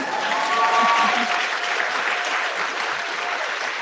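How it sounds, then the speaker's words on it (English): A lecture audience bursts into sustained applause, a dense, full crowd clapping that swells early and then holds steady, with faint vocal cheers or murmurs threaded through. "Yes, you can applaud that."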